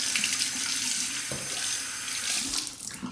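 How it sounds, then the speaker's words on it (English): Tap water runs continuously into a sink during a face rinse between shaving passes, a loud close steady splash with a few shifts in flow. "Slight rinse of the face."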